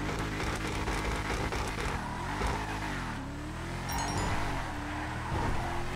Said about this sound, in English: You can really hear the turbo in this car.